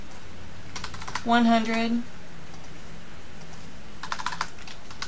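Several quick keystrokes tap on a computer keyboard while numbers are entered into a spreadsheet-style report, a short burst of clicks near the start and another brief cluster near the end, with a voice speaking in between.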